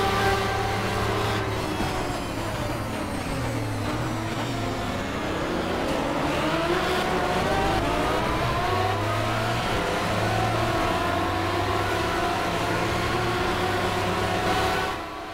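A race car in Project CARS braking hard at Mulsanne during the 24 Hours of Le Mans, its engine loud and close with pitch dropping and rising through downshifts, continuous for the whole stretch with no talking.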